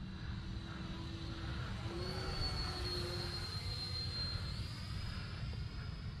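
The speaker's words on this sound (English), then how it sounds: "what a easy flying little jet" A Fly Fans Red Falcon K-8 RC model jet in flight, its ducted-fan whine holding a steady, fairly distant hum with a slowly shifting pitch against outdoor background noise.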